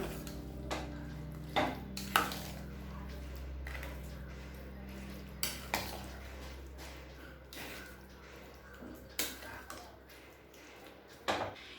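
Spoon stirring tempered village-style kootanchoru rice in a pot, soft scraping and muffled squishing with a few sharper clinks against the metal, moderately faint and close.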